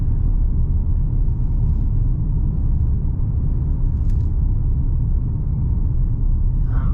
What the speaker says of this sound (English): you're going to notice a lot of cabin noise. Mostly it's just simply from the tires and from the road